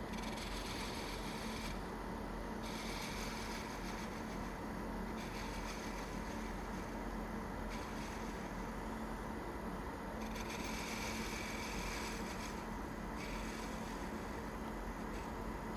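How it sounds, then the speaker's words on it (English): Wood lathe turning a Christmas ornament with a spindle gouge, a steady dense scraping rasp over constant motor hum, unbroken and moderately close throughout. "be easier to make those curves with a spindle gouge than a skew"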